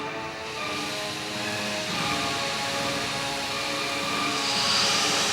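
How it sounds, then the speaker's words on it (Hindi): A spacecraft roars past in an audio drama, a steady, loud jet-like rush with hiss that swells slightly toward the end, with no voices over it. "वो धुमांतक के शरीर के कणों की गति से भी ज्यादा तेज गति से अपने विमान को लेकर काल आकाश गंगा के अंतिम छोर पर जा पहुंचा"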